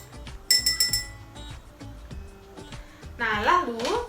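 A spoon stirs water tinted with food coloring in a drinking glass, giving a run of small glassy clinks and taps spread over a few seconds, with a voice briefly heard near the end.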